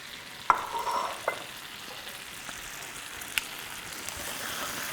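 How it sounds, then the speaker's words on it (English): Onions and tomatoes cooking down in a pan, a soft steady sizzle with a few brief clinks of stirring near the start, fairly quiet and close, with no talk. "now we got our onions and tomatoes that are just kind of cooking down here"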